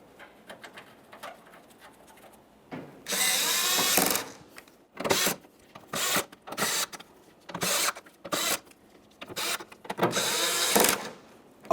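Power tool driving and tightening the tailgate mounting bolts on a 2004–2008 Ford F-150, about eight short whirring bursts of one to two seconds each, spaced by pauses with light clicks and handling noise.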